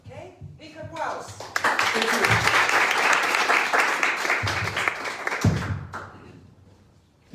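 Applause from the audience at an elevator pitch event, a full burst of clapping that swells quickly, holds dense for several seconds and fades out, with a voice briefly heard at the start.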